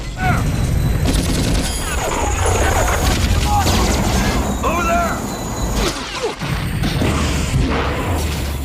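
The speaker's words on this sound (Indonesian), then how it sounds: "Bahkan sempat menghujani benteng dengan tembakan." Helicopter gunfire raining down on a fortress in a Rambo film: dense bursts of shots and crashing impacts over a constant loud mechanical roar, with a brief lull near the end before the din resumes.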